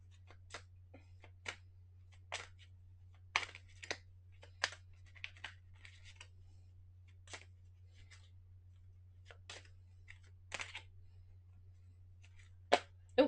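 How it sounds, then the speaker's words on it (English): A large tarot card deck being shuffled by hand, giving scattered soft riffling clicks and slaps at an irregular rhythm over a steady low hum, close and fairly quiet with no talking. "I find this deck a bit large to shuffle"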